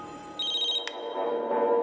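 A telephone rings with a steady electronic tone over a background hum, sounding moderately loud and close with no talking.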